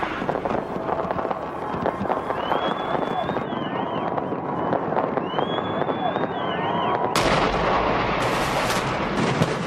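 New Year's Eve fireworks over the Las Vegas streets, a dense barrage of booming bursts and crackles under a large crowd's cheering and whistling, growing louder toward the end.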